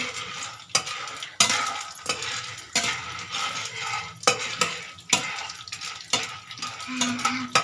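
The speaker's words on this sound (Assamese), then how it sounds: "এতিয়া আমি ইয়াত দি দিছোঁ ঘিত। অলপমান লৰাই থাকিব।" Popcorn corn kernels stir and fry in hot ghee in a pan. A spoon scrapes in repeated close strokes over a soft continuous sizzle, with no voices.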